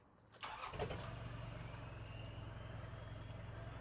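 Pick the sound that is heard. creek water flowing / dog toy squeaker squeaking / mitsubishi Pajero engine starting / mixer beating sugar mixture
mitsubishi Pajero engine starting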